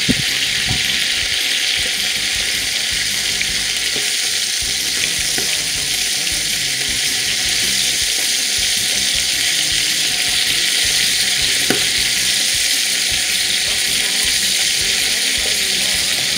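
Chicken curry spits and sizzles steadily in a pot for the whole stretch, a dense bright frying hiss with a few sharper pops and stirring knocks, close and loud, no talking over it.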